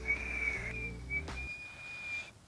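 A person practising a loud whistle produces a thin, steady high whistle that holds for about two seconds, with a short break partway, close up and breathy, over faint background rumble.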